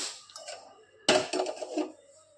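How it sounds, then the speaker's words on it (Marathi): A frying pan set down on a stove to start pigeon peas chutney gives a sharp metallic clank at about one second, followed by brief rattling clatter and a few lighter knocks, with no voices. "तर आता आपण पॅन ठेवू"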